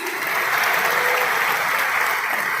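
Loud, dense applause fills an indoor stadium in Surat as an audience welcomes a government minister, a steady roar of many hands clapping continuously without any voices on top.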